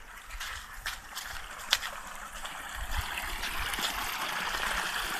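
Water pours steadily through the outlet sluice of a percolation tank built under a rural employment scheme, making a continuous broad rushing and gurgling wash heard from nearby with no voices.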